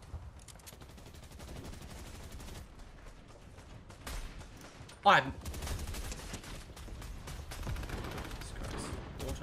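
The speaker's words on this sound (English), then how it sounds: "Oh, it's an automatic sniper." An automatic sniper rifle in Fortnite fires a rapid series of close shots over a busy game soundscape, with one sharp louder crack near the middle and brief talk at the start.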